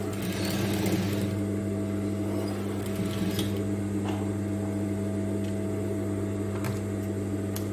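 A sewing machine top stitching fabric on a v-neck top, giving a steady, continuous mechanical hum with a low drone and a few faint clicks, close and even throughout with no speech.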